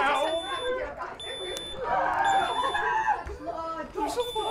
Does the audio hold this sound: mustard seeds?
no